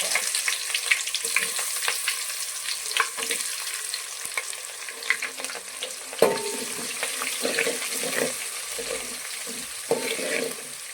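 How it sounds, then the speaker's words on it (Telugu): Chopped onions frying for vegetable pulao, browning in hot oil: a steady close sizzle with occasional stirring scrapes and clinks throughout, no talking. "ఆనియన్ మంచిగా కొంచెం బ్రౌన్ అవ్వనివ్వాలండి"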